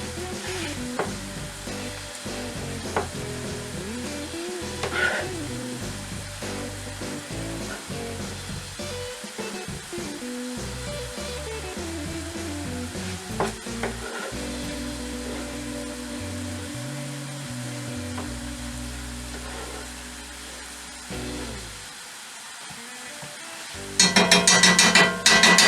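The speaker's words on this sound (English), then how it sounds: "I'm going to go ahead and put my onions in. I'm also going to put my jalapenos in." Pork, onions and jalapenos stir-frying in a pan for pork fried rice, a steady sizzle broken by repeated scraping and knocking of the utensil, with a brighter, louder burst of frying near the end.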